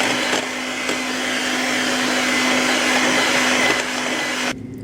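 Electric mixer whisking egg yolks with sugar for a pear, caramel and chocolate entremet, a steady loud whirring drone with no talk that cuts off abruptly near the end.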